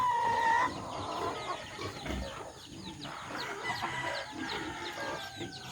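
A busy flock of poultry: hens clucking and young chicks peeping constantly, with some louder calls, steady and close.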